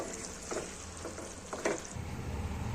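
Potatoes and pointed gourd simmering in water in a covered pot: a faint, low bubbling with a few soft pops and knocks scattered through, quiet and close, without talk.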